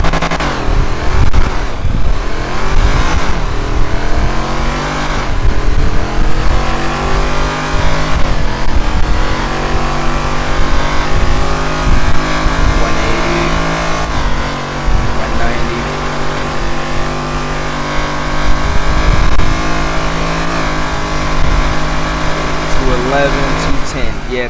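A 2024 Mercedes-Maybach S680 Brabus 850 accelerating hard toward top speed, its engine a loud sustained drone that climbs in pitch through several gear changes, heard from inside the car.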